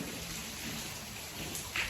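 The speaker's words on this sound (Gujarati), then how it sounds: "જુઓ ધોધમાર વરસાદ ચાલુ થઈ ગયો છે" Heavy rain pours steadily onto a yard, a dense, even hiss that fills the whole moment without pause and with no voices.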